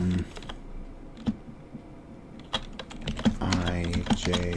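Typing code on a computer keyboard, scattered irregular key clicks, some soft and some sharper, close by, picking up into quicker bursts near the end while a person talks intermittently.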